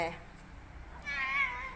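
A house cat gives a short meow near the end, brief and fairly faint, with a person talking over it.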